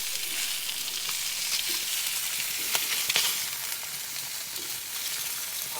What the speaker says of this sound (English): to hear them sizzle.